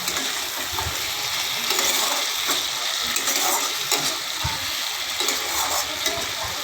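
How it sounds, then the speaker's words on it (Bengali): Prawns sauté with spices in a pan: a loud, continuous close sizzle with intermittent scraping stir strokes and occasional soft knocks, and no talking. "কিছুক্ষণ আমি কষিয়ে নেব 1 মিনিট মতন ভালো করে, যাতে চিংড়ি মাছের গায়ে মশলাগুলো ভালোভাবে ঢোকে"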